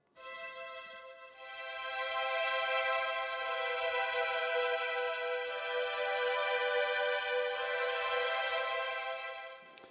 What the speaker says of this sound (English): I just pulled up this preset called warm strings and pad.